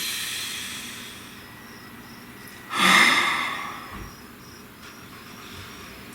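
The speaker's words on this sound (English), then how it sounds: "Nice deep breath." One slow, deep breath drawn in and let out, close and clear, over a steady backdrop of chirping crickets.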